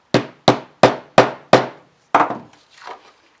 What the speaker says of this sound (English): Not too much hammer, not too little, because we want it to hold